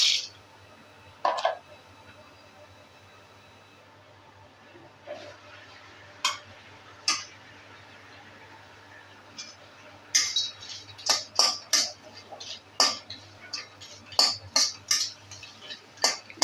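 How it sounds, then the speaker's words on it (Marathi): Cinnamon sticks being roasted and stirred in a pan, heard as sparse, sharp metallic clinks and scrapes that grow more frequent toward the end, against a quiet background. "आता आपण दालचिनी भाजून घेऊया."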